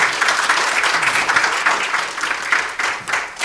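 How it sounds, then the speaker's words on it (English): Audience applause fills a conference hall at a China–India forum session, steady dense clapping throughout with no speech over it. "please welcome them with a round of applause."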